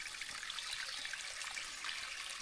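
Spring water from the Carpathian mountains trickles steadily in a soft, continuous hiss and splash, faint and close, with no voices.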